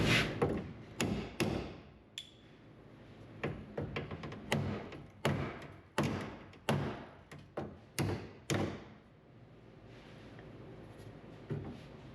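A hammer strikes a dolly held against a car body panel during restoration work on a Road Runner, giving a series of sharp metallic blows in uneven bursts, close and moderately loud with short pauses between them.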